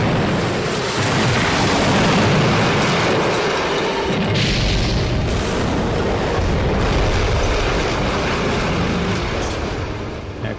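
Large simulated bomb explosion set off near an Anderson shelter on a mock Blitz street, a huge sustained roar and rumble that stays loud and dense for about ten seconds.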